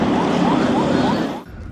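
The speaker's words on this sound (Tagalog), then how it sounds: "binasag ang katahimikan ng malakas na tunog ng sirena mula sa CCG vessel" Chinese Coast Guard vessel 5303 sounds its siren at sea in the West Philippine Sea, a loud, close wailing tone with rising sweeps that cuts off abruptly near the end.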